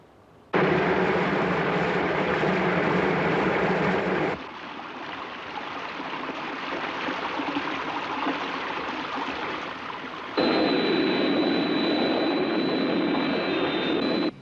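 Thunderbird 1 aircraft flies in a science-fiction sound effect, a loud continuous jet roar and whoosh that shifts character abruptly twice, the last section adding a high whine.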